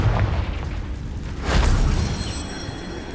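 Confringo blasting spell exploding in Hogwarts Legacy: a heavy, rumbling boom that swells midway and fades out slowly, with a low continuous rumble before and after.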